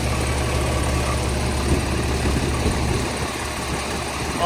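A Cummins diesel engine idles in a Peterbilt 389X truck, a steady close low rumble with an even clattering texture throughout, no talk.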